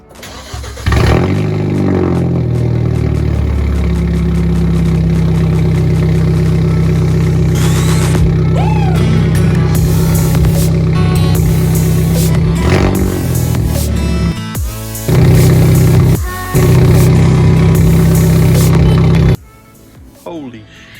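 A 2013+ Hyundai Genesis Coupe with a downpipe-back exhaust starts up and idles with a loud, deep drone, then revs in several sharp bursts before cutting off near the end. A voice talks over it.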